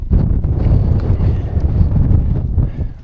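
Strong wind roars over an open fell summit, buffeting loudly and continuously in heavy gusts right at close range.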